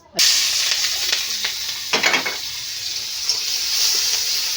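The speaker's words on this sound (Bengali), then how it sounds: "তেল কিন্তু গরমও হয়ে গেছে গন্ধ বেরিয়েছে এখন এই যে দিয়ে দেবো রসুন বাটা" Crushed garlic hits hot mustard-scented oil in a wok with a sudden loud sizzle that settles into steady frying hiss, punctuated by a couple of stirring scrapes.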